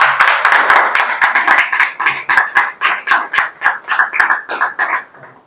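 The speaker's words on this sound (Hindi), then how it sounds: "इसके लिए जोरदार तालियां बजाओ" A small group of students claps in quick, uneven bursts, the applause rising and falling for several seconds before fading out.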